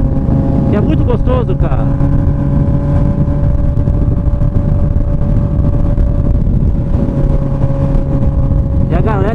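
A Honda CB 1000R motorcycle with an open exhaust pipe roars loudly and continuously while riding, its deep engine drone steady throughout, with someone speaking briefly over it.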